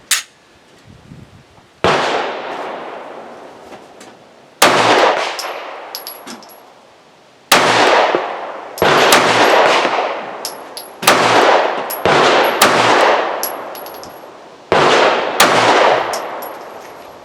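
A Walther PPS M1 9mm pistol fires a string of sharp, loud shots in uneven groups with pauses between, close-up and ringing, at an outdoor range with no talk.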